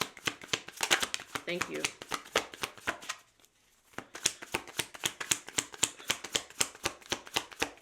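Tarot cards are shuffled in rapid, steady riffling bursts close by, pausing briefly before resuming; a voice speaks briefly during the shuffling.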